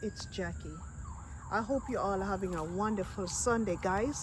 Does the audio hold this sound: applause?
no